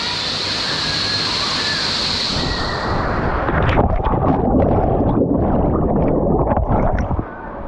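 Person jumping into the water at Maunawili Falls on Oahu, Hawaii: steady roar of the waterfall, then a burst of splashing and sloshing that continues loud and close, with a voice cheering faintly in the background.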